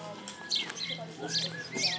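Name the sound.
birds chirping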